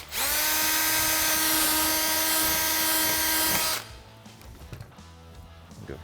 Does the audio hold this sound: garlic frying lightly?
no